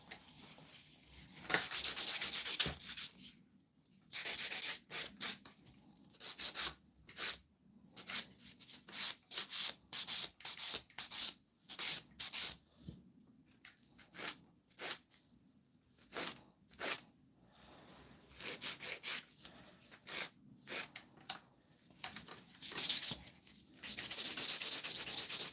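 Acrylic nails being buffed with a nail buffer, close, quick scratchy rubbing strokes in irregular bursts with brief gaps, running alone throughout.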